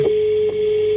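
A steady single-pitched phone ringback tone hums throughout a car's voice-dialed call in a Renault, with two faint clicks near the start and middle.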